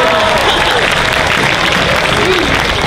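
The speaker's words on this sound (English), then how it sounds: "Give them a round of applause." Audience applause for cosplay contestants posing on stage at the Orlando Japan Festival 2023 cosplay contest, a steady dense clapping that fills the whole stretch with crowd noise.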